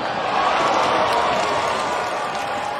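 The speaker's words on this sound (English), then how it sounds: "That got the crowd on their feet for a moment." Baseball stadium crowd at an NCAA tournament game between Indiana State and Vanderbilt, roaring steadily and broadly as a deep fly ball carries to center field, a dense sustained wash of cheering and clapping.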